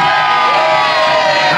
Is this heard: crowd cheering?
yes